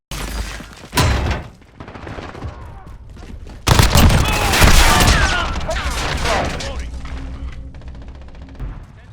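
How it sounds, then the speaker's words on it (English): Gunfire and hit marker sounds from the Call of Duty Modern Warfare beta: a sharp burst early, then a sustained loud stretch of rapid shots and impacts, easing off toward the end. "The hit marker sound redesign is perfect."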